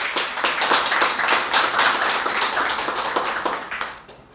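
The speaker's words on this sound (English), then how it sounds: "Please clap." Audience clapping at a presentation event at a spoken English and IELTS institute in Lahore, a dense stretch of many hands clapping steadily and fairly loud for about four seconds, then tapering off at the end.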